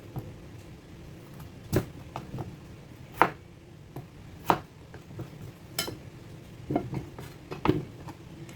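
A knife cutting potatoes into quarters on a board, a handful of separate, moderately close thuds spaced a second or so apart over a faint background hum.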